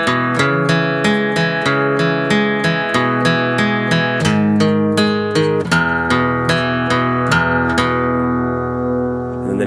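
Acoustic guitar plays a barred three-string chord part, a fast, steady picked rhythm of ringing notes on the low strings that continues evenly, loud and close, with no talking.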